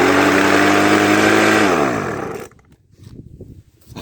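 A leaf blower's small gas engine roars loudly at high revs, then its steady drone winds down and dies away, leaving quiet handling noises.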